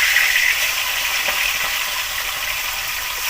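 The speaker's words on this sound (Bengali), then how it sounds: "তেলটা গরম হয়ে গেছে, এবার আমি মাছগুলো ভেজে নেব।" Mini catla fish frying in hot mustard oil in a pan, a loud, steady bright sizzle with a hissing spatter, close by and uninterrupted.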